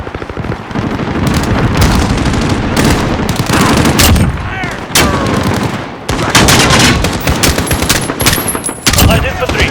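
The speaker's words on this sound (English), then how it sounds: "Taking fire!" Heavy gunfire in the video game Call of Duty: Modern Warfare (2019) on PC, with loud overlapping bursts and shots fired continuously amid a chaotic firefight that carries on throughout.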